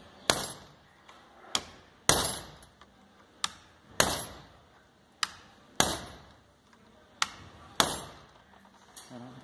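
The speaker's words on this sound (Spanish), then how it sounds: "Usar un martillo más grande," A hammer strikes a car steering wheel close up, about ten sharp metallic blows at a slow, fairly even pace, each with a short ringing decay, and no one talks.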